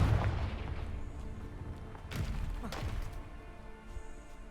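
Confringo fire spell blasts in a fantasy video game, sounding as a heavy opening boom followed by two more rumbling explosive thuds a couple of seconds later, with crackling debris in between.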